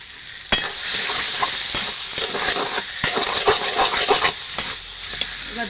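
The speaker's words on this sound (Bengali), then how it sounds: "এবার এটা নাড়াচাড়া করে রান্না করে নেব।" Food stirred and fried in ghee for a vegetarian khichuri gives a steady close sizzle and hiss with repeated scraping stir strokes throughout, and no voices.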